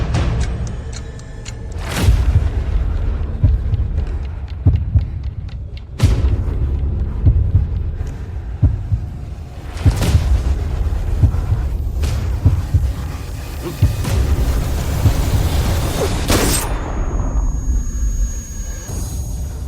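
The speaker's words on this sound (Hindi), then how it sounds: "गोली चला।" Several heavy booming shots ring out at intervals, each a sharp loud burst over a dense, rumbling background.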